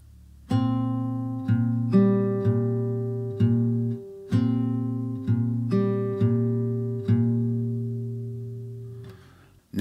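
Slow, deliberate plucked acoustic guitar notes ring out one by one, each decaying before the next, forming a simple, clean riff from a song with no talking.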